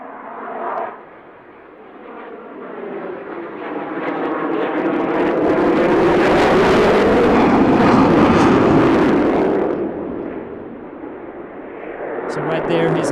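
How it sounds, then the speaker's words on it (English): A fighter jet roars past at full afterburner, a loud rising and falling blast that swells to a peak mid-pass and fades, with crackling rumble at an air show. "So right there he's at full afterburner and he's accelerating"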